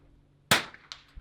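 A rifle shot at an NRL22 match cracks sharply once, followed by a faint metallic ping of the bullet striking a steel target, with a small thump trailing after.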